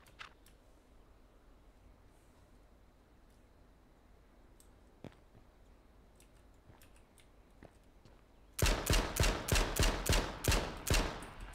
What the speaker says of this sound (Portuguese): Mandaste um tiro de shot! Não, foi mesmo de pistola!